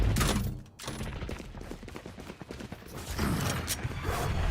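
A burst of gunfire crackles in the tactical shooter Valorant, several rapid shots with mechanical clicks and rattles, with the loudest flurries at the start and the end.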